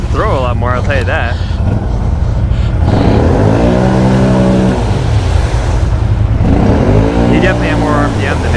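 Two Can-Am 650 XMR ATVs on mud tires rev hard while churning through mud, engines rising and falling in loud sustained bursts with people talking over them.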